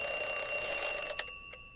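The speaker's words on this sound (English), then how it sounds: "I turn off my alarm." An alarm clock rings loud and close with a steady high electronic tone that runs for over a second before cutting off, followed by a couple of brief beeps; no talk over it.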